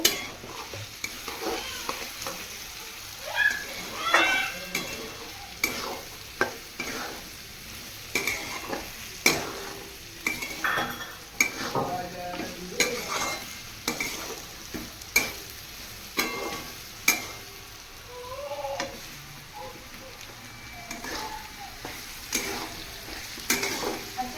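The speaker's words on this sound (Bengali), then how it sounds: "এবারে এটাকে ভালো করে নেড়ে নেবো" Pasta seasoned with salt and turmeric fries in a pan under steady sizzling, while a spatula stirs and scrapes in regular strokes with frequent close clicks against the metal, continuing throughout with no talking.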